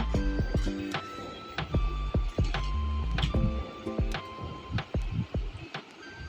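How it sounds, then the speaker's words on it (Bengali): A sewing machine top-stitching elastic onto a salwar, heard close up as a quick run of sharp mechanical ticks and thumps with a faint hum underneath, pausing briefly near the end. "এখন উপর থেকে আমি একটি চাপ সেলাই দিয়ে নিব।"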